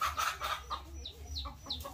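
Hens clucking on a farm, a run of short soft clucks and calls at a moderate distance over a steady low background rumble, with no talking.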